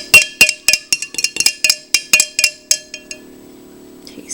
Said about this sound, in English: Okay, I'm going to stir it up.